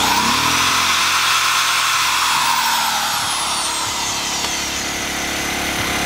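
Ryobi RYi1000 1000-watt inverter generator running steadily and ramping up its engine speed, a loud continuous mechanical drone with a rising tone early on and no voices.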